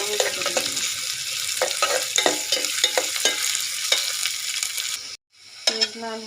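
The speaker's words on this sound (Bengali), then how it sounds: "পেস্টটা ভালো ভেজে করে দেবো।" Spice paste for a duck curry sizzles in a hot pan with onions and whole garam masala, a steady crackling fry broken by repeated scraping stirs, close and loud, with a brief quiet gap near the end.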